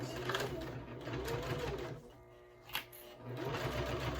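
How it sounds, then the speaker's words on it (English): A sewing machine back stitches along a wristlet bag, needle starting down, its steady mechanical whirr running in two close bursts with a short pause and a small clack between them. "I'm going to start with my needle down, back stitch"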